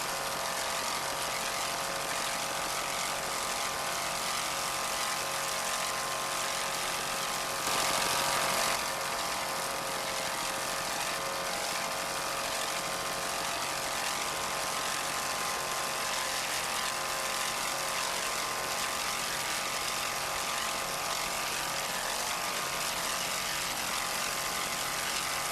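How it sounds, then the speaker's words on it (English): A 600 horsepower Chevy inboard engine drives a racing powerboat at an offshore race, a steady loud roaring drone that holds constant throughout with a brief surge of broadband rushing partway through. "That 600 horsepower Chevy inboard sounds excellent"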